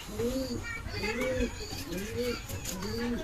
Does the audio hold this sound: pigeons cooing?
yes